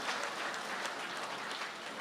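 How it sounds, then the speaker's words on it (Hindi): Steady applause from an audience at an Urdu mushaira poetry recital in Qatar, a dense continuous wash of many hands clapping throughout, fairly even in loudness and with no talk over it. "आप हजरात ढेर सारी तालियां बजाएं"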